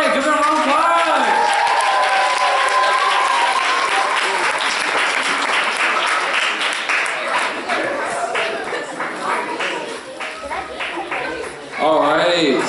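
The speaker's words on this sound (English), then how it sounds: "give it a round of applause" A church talent show audience breaks into applause, a dense wash of clapping that swells and gradually thins, with a voice speaking over the start and end.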